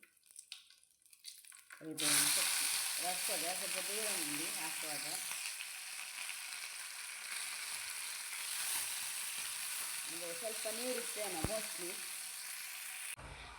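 Spices sizzle and crackle steadily in hot oil, a bright continuous hiss, with a voice speaking briefly over it.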